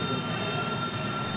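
An express train from Tambaram to Ramanathapuram rolls along the rails, giving a steady, loud, continuous rumble and hiss with no break and no voices.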